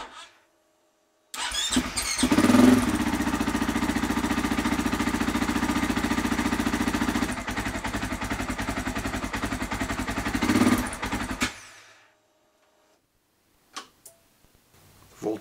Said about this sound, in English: So I'm going to go ahead and fire up the bike real quick and it should turn on.